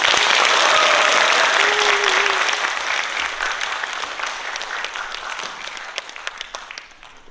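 An audience welcoming a lecturer to a regional culture lecture bursts into loud, dense applause and cheering that starts at full strength and gradually thins and fades over several seconds, with a few high whistles or shouts in the opening moments.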